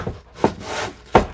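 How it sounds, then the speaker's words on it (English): Quick burnishing of a loose, unclamped piece before its final layer: two or three short, close rubbing strokes. "I'm going to give it a quick burnish before we put the final"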